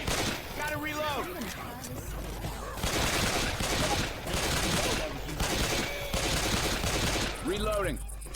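Video game gunfire crackles in dense, rapid bursts and sustained volleys from near and mid distance, with voices shouting over the shooting throughout.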